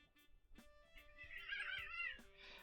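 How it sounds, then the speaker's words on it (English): Several pet cats in a room give a quiet, rising meow or caterwaul in the middle, with faint scattered thumps and shuffles around it and no talking. "I have 6 cats, and all of them are down here with me."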